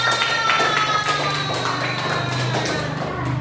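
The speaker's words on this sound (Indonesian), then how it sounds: "Kasih tepuk tangan." A class of schoolchildren applauds during a primary school science lesson on the water cycle, producing brief scattered tapping claps in a room with steady background murmur and a hum.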